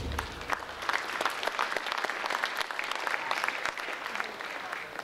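Crowd at a girls' high school basketball game in a gym applauds the officials, a steady sustained clapping from many hands at moderate distance, with no talking over it.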